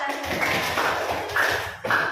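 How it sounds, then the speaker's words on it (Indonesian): A group gives a short round of applause during a school coaching session, a steady patter of hand claps heard together with voices. "Tepuk tangan buat kita"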